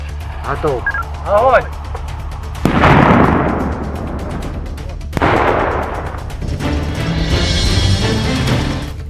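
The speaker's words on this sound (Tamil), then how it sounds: "செர்னிஹிவ் பகுதியில் அவ்வாறு கண்டறியப்பட்ட கன்னிவெடிகளை வெடிக்கச் செய்து அழிக்கும் காட்சிகளை யுக்ரைன் ராணுவம் வெளியிட்டுள்ளது." Landmines detonated by the Ukrainian army in the Chernihiv region, with several heavy booming blasts and rolling rumble, heard beneath a voice speaking over the scene.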